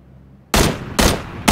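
Three loud, sharp gunshots from a PUBG match ring out at roughly half-second intervals after a short quiet lead-in, each with a crisp attack and a brief decaying tail.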